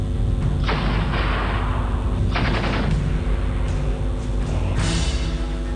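Repeated bursts of gunfire crack out over a steady rumbling background at a mountain army post in the Siachen war, several volleys spaced a second or two apart, loud and sustained.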